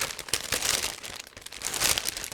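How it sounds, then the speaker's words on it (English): Close crinkling and rustling of a resealable plastic bag holding a 1/48 scale model kit being handled and pulled open, in irregular bursts of crackle. "So just give me a second to open this plastic bag."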